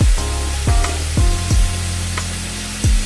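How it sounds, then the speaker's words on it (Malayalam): Two finely chopped tomatoes are sautéed in a pan for a Kozhikodan dum biryani, giving a loud, steady sizzle broken by about five metallic spatula scrapes and clanks. "അതിലേക്ക് 2 തക്കാളി ചെറുതായി അരിഞ്ഞത് ചേർക്കാം. 1 മിനിറ്റ് ഒന്ന് സോട്ട് ചെയ്യാം."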